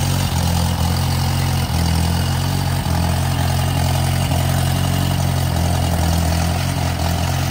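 1955 Fiat 500C Topolino convertible saloon engine idling, a loud, close, steady low chugging with an even pulsing rhythm that holds throughout without revving.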